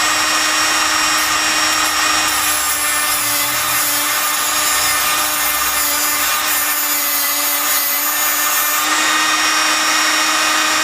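A grinder whines loudly and steadily as a tungsten TIG electrode is ground to a point, the harsh, hissing grind continuing without pause, with slight shifts in pitch as the electrode turns.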